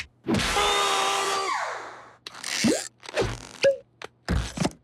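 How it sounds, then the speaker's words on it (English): Cartoon belt sander whirring to life in a loud rising buzz that winds down, followed by scattered scraping, zipping and squeaky sound-effect bursts, close and without talk. "A belt sander it is."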